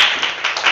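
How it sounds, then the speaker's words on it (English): A brief burst of audience clapping at a Toastmasters meeting, a dense patter of many hands lasting under a second at fairly close range. "give me a round of applause"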